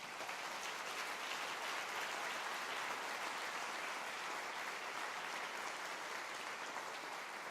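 A church congregation claps during a sermon, a steady, dense applause of many hands sustained evenly from start to finish with no voices above it.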